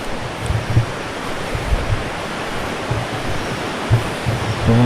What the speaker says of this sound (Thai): ลำธารอยู่ข้างๆบรร ยากาศเย็นสบาย ป่าลึกทึบนะ